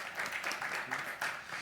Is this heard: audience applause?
yes